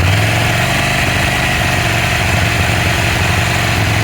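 A 2024 KTM Duke 790 with stock exhaust, engine cold, holds a steady, deep, throbbing idle close up for the whole stretch, with no talking.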